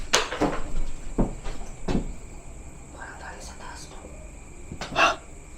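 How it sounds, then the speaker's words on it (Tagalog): Sharp knocks sound in a quiet room during a night-time spirit-communication session after a cemetery visit, several distinct raps spread over the stretch with soft whispering in between. "Pare, katok yun na 2 beses."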